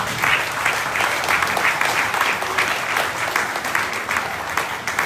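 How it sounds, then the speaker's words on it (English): Sustained applause from an audience at a political event announcing a gubernatorial candidacy, dense and steady clapping throughout at a moderately loud level, with no speech over it. "ask all of you to give a round of applause of Kilili's representative"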